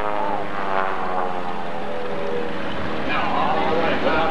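The Bud Light 200 aerobatic airplane flies a loop at the 1993 Reno Air Races, its propeller engine a loud, steady, droning roar that fills the whole stretch while an announcer talks over it.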